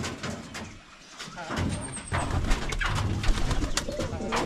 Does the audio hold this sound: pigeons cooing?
yes